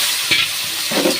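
Pumpkin and potato pieces frying in oil seasoned with nigella seeds, stirred with a few scraping strokes over a steady close sizzle.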